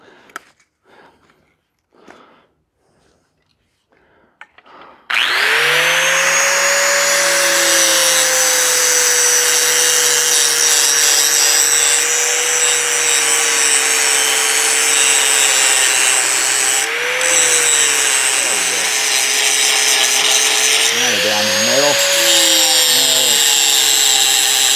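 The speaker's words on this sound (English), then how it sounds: "We're going to just grind the ends off." Ends of a metal piece are ground clean before welding. After a few seconds of quiet handling sounds, a loud power grinder starts and holds a steady, harsh, whining roar close up for twenty seconds, dipping briefly as the load shifts.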